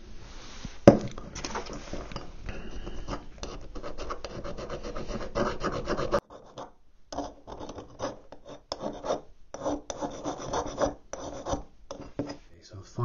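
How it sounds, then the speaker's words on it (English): Seams on a 1/250 scale plastic Yamato model ship kit are filed and sanded with 800 grade sandpaper, a close, continuous rasping and rubbing with short pauses and uneven strokes. "I've filed and sanded all the seams. Just using an 800 grade sandpaper and the file"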